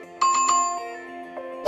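A notification bell sound effect gives a few bright, ringing chimes in quick succession that sustain and fade, then end in a short burst of noise, with no voices.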